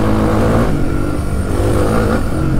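A Suzuki DR 350 enduro motorcycle engine roars loud and close, holding a continuous rough drone at steady revs with no voices.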